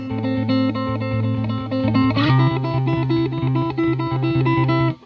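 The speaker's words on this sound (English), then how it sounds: "made our guitar sound like this" Finger-plucked guitar notes ring out in a steady repeating pattern, clear and close, with a brighter pluck midway before the notes fade at the end.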